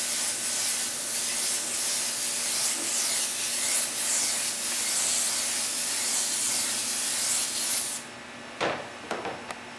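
Airbrush spraying transparent paint in light strokes, a steady close airy hiss that runs unbroken for several seconds before cutting off, followed by a few brief soft knocks and rustles.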